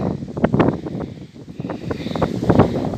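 Strong gusty wind buffets the microphone in loud rumbling bursts over a garden plot during garlic planting, with rustling beneath, rising and falling over a few seconds.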